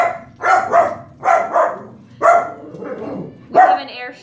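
A pet dog barks repeatedly nearby, loud sharp woofs in uneven pairs and singles, agitated by planes flying overhead during a neighborhood air show.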